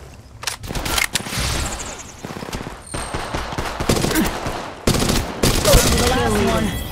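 Bursts of rapid gunfire from the mobile shooter Apex Legends Mobile, loud and dense with repeated volleys and short gaps, a few clipped voice lines mixed in among the shots.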